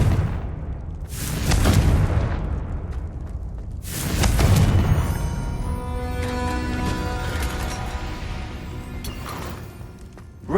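Two heavy, booming blasts from the Confringo fire spell in Hogwarts Legacy, a few seconds apart. Each is loud and close with a rumbling tail, followed by ringing, shimmering magical tones that linger and fade.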